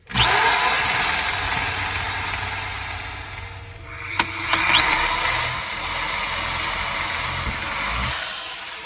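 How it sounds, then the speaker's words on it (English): Power drill boring a 3/4 inch hole for a water line aboard a sailboat, a steady close whirring grind running nearly nine seconds with a brief dip and a couple of sharp clicks midway. "Gonna drill a 3/4 inch hole for the water line"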